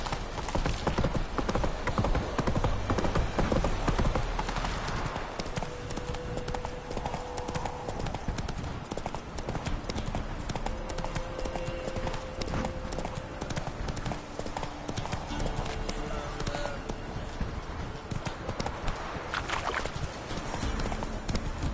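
The horse Roach gallops in The Witcher 3, a rapid, steady clip-clop of hooves that continues throughout, with faint game ambience and occasional tonal game sounds layered underneath.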